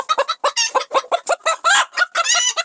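An Indian-bred Sultan chicken, a rooster of the Turkish royal ornamental breed, clucks in a rapid, close series of loud bursts and squawks, with no voices.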